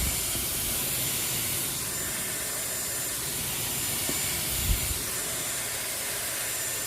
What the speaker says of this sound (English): I like to pre-treat my hair with the Dyson Omega Spray.